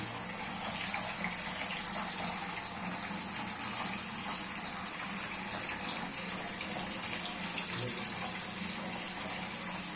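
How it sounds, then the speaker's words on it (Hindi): Chicken livers are washed under a running kitchen tap, giving a steady, even hiss and splash of flowing water that goes on throughout, fairly faint. "अब जो है कलीजियाँ धोएंगे"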